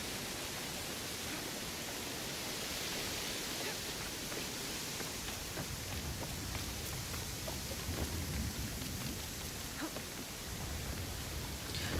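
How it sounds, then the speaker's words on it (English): Loud, steady rain pours down continuously, a dense hiss of drops on surfaces that fills the whole stretch with no pauses, and faint low rumbles hint at distant thunder beneath it. "The rain is kind of loud. The rain was loud."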